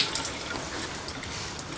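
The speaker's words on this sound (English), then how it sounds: "we're just going to leave it flushing for a while until the water that's coming out of the bottom is all clean." Water from a garden hose gushing steadily through the cooling system of a Dodge Ram truck engine being flushed after water pump and thermostat replacement, a continuous close splashing rush with no talk.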